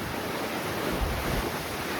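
Broad ocean waves and wind on the open mid-Atlantic, recorded aboard a Royal Caribbean cruise ship far from land, form a steady, loud wash of surf and wind noise with no talking.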